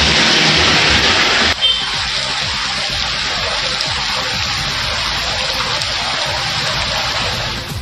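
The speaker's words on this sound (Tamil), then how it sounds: "மயிலாடுதுறை மாவட்டத்தின் பல்வேறு பகுதியில் 5வது நாளாக பரவலாக மழை பெய்து வருகிறது." Widespread rain falls steadily in Mayiladuthurai district, a dense, even hiss of rainfall that continues throughout, with a sharp shift in texture early on.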